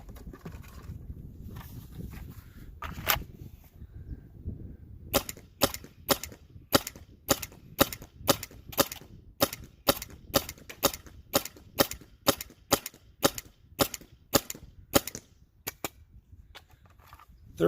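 First Strike EMF100 blaster firing a rapid string of sharp, cracking shots in a steady rhythm, each a crisp snap, loud and close, continuing for most of the stretch after a quieter opening.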